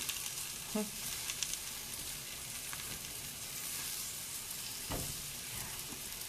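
Bison burger meat frying in a pan, giving a steady, close broadband sizzle broken by a few brief scraping knocks as bits are freed from the pan's surface. No one speaks.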